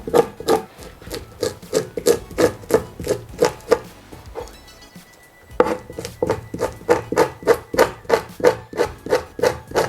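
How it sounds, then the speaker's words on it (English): A knife scrapes scales off a raw salmon in a kitchen, giving quick rhythmic rasping strokes, steady and close, with a short pause midway before the scraping resumes. "we're just going to scrape that off. Get off the excess scales."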